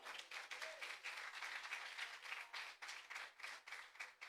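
An audience at a live event breaks into strong applause, lively overlapping clapping that rises and dips in waves at moderate volume with no speech heard over it.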